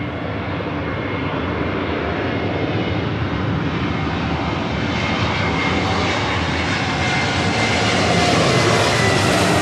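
A heavy jet airliner arriving at LAX roars loudly and steadily throughout, its broad engine noise swelling slightly toward the end as the aircraft draws closer.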